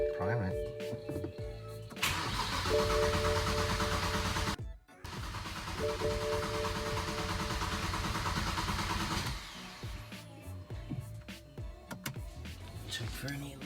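A BMW 335xi with N54 engine and big single turbo cranks and runs close by after the turbo install, a loud steady engine drone that briefly cuts out, then resumes before settling down, with a person talking.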